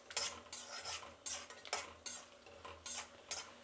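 Peanuts, cashews and round red chillies frying in a pan, stirred in regular bursts of scraping and rattling roughly every half second over a faint sizzle, close and fairly quiet.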